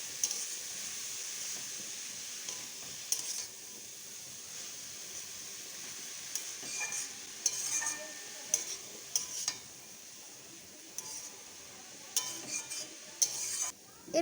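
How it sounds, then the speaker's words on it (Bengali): Bathua greens stirred in a frying pan, soft scraping and turning with a faint sizzle and scattered sharp clicks of a spatula against the pan, fairly quiet and close, no talking. "এরপর দিয়ে ভালো করে এভাবে নাড়াচাড়া করে নিতে হবে"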